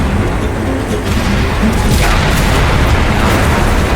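A tank cannon fires in the World War II shooter Enlisted, a heavy booming blast that rolls into a dense, sustained rumble of battlefield noise lasting several seconds.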